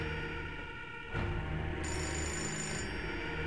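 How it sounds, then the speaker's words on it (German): Telephone ringing in the video game Fahrenheit, a steady electronic ring that grows louder and brighter partway through, heard alone at moderate level without voices. "Ich gehe nur schnell ans Telefon."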